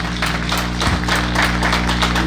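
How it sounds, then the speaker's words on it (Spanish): A diffuse wash of applause fills the hall at a district anniversary ceremony in Marcas in 2017, heard under a loud, steady electrical hum from the sound system. "Yo le pido un voto de aplauso, un voto de aplauso para todos mis hermanos presentes"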